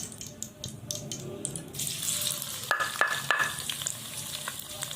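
Ghee sizzles hard in a home kitchen pan as chopped onions go in, a steady bright crackle with faint clinks, rising louder midway with sharp sputters and spoon scrapes.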